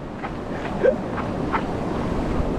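Waves wash steadily with wind rushing past the microphone, a continuous broad roar with a faint brief tone near the start.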